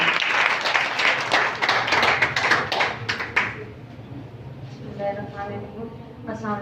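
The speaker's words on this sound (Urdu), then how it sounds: "آپ کی بھرپور تالیوں میں محترمہ ڈاکٹر نجوہ سلیم." Audience applause welcomes someone speaker, Dr. Najwa Saleem, at a psychological counselling event for a women's empowerment project: dense clapping for about three seconds, then it dies away under low murmuring and faint background sounds.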